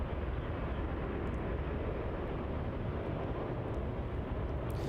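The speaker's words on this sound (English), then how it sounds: "On departure there, we have the Jetstar 787." A Jetstar Boeing 787 departing Melbourne Airport, heard as a dense, steady, broadband roar of jet engine noise that holds at an even level throughout, with no talk.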